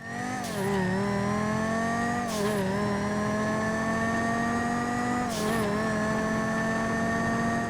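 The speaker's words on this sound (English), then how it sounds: "that is basically the sound of the normal engine" A Banshee's engine in GTA revs up steadily through the gears, pitch climbing then dropping at each of three shifts, loud and sustained with no speech.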